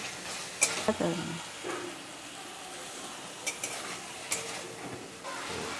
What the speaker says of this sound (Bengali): এবার তেল ছাড়া অবধি ভালো করে মশলাটা কষিয়ে নেব